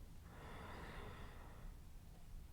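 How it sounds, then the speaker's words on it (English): A single long, faint breath drawn audibly during yoga practice, a soft hissing exhale-like rush of air lasting just over a second against a quiet background. "breathing with sound"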